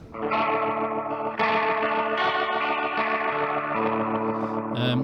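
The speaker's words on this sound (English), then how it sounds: "It's like meant to be like a Leslie speaker emulator." Electric guitar played through a pedal board's rotary setting that emulates a Leslie speaker, sustained chords swirling with chorus-like warble and grit, loud and steady with a few chord changes, no voices.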